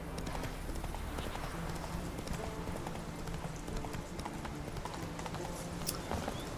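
Geralt's horse Roach gallops in The Witcher 3, a continuous, steady drumming of hooves that stays even and close from start to finish, with no clear speech over it.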